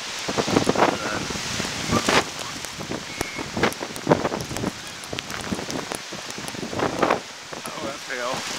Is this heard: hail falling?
yes